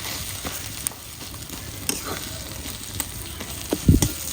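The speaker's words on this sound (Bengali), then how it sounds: "ভালো করে ভেজে নিব মাছগুলো অনেকটা ভাজা ভাজা হয়ে গেছে" Rohu fish pieces fry in a pan with a soft, steady sizzle, broken by a few sharp pops and spatters and a louder crackling burst near the end.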